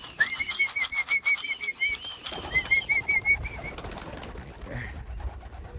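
Pigeons are being called in outdoors, with repeated high, chirpy whistled calls early on, then softer rustling and possible wing flaps, and a short spoken remark.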